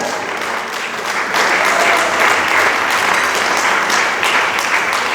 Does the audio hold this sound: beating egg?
no